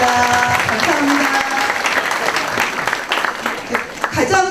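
Audience applause at a school fathers' camp orientation meeting, sustained steady clapping from a crowd in an indoor hall, with a voice speaking over it near the end.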